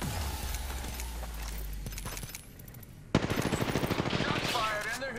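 Rapid automatic gunfire in the video game Apex Legends bursts out loudly in a dense, evenly spaced stream after a stretch of quieter game noise and rumble.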